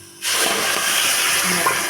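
Water poured from a bottle onto sugar to make jalebi syrup, a loud, close, continuous gushing stream that starts abruptly and runs steadily for well over a second.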